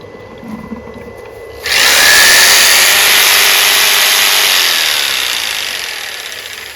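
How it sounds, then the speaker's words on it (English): A loud power tool, powered by a Wattcycle lithium battery, whirs up suddenly and runs at a steady high whine, close by, easing slightly toward the end. "let's plug our power tool in"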